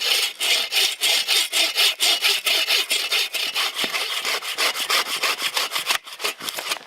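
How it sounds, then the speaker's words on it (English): An Agawa Canyon Boreal 21 buck saw cuts through wood in the forest, giving a steady run of loud, close, rhythmic rasping push-pull strokes that continue for the whole stretch with no talking. "There are prettier saws, but this is the most high functioning, efficient, compactable buck saw that I've seen."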